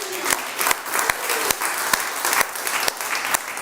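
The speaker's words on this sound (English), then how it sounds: "And now you want to open your eyes and say, I did it, and give yourself a round of applause." A small group gives a round of applause after a seminar exercise, with scattered, distinct claps at an uneven rhythm and no talk over it.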